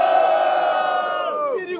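A crowd at a Brazilian team rap battle roars with loud, sustained cheering and shouting for a couple of seconds, fading slightly at the end.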